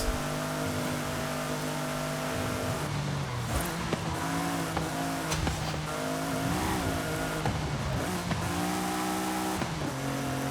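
An Audi S1 driven in Forza Horizon 5, its engine note rising and falling through gear changes with tire squeal, loud and continuous throughout with no talking.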